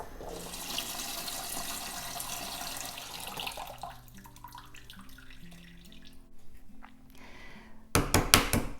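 Hot water strained out of a pot of boiled duck eggs into a sink gives a steady rushing splash for several seconds. It then fades to quieter trickles and ends in a short, louder burst of clatter and splashing.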